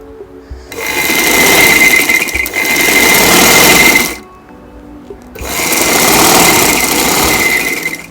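A sewing machine stitches a ladies' shirt in two long, steady runs of loud, close whirring, with a short pause between them.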